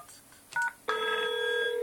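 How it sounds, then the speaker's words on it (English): A Cisco IP phone rings on a desk in a quiet room: a short electronic tone blip, a pause, then a steady sustained ring tone that carries on to the end. "Okay, I'm ringing the phone on the right."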